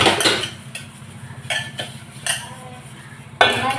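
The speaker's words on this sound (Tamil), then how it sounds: "நம்ம ஈஸி மெத்தடில் வேகமாக பாத்திரத்தை கழுவிடலாம்" Soaped dishes, pots and steel vessels are washed by hand, with clattering knocks and clinks at irregular intervals over a low rumbling background, close and fairly loud, with no speech.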